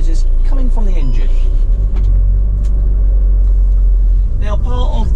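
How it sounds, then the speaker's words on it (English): A 2013 VW Transporter T32 140 BHP panel van engine idles with a deep, steady rumble throughout, while a person talks over it. "I need to be getting the engine started up"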